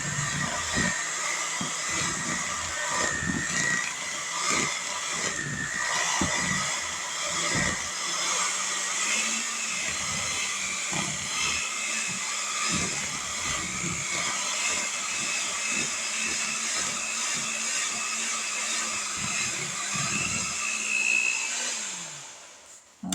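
An electric mixer runs steadily, blending peanut butter lasagna filling with a continuous high whine and a low motor hum, and its blades knock and scrape against the bowl before the motor winds down at the end.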